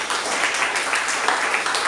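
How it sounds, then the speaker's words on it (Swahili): Congregation applauding during a church sermon, close, continuous clapping in a dense wash with slight rhythmic swells throughout. "Yesu makofi mazuri."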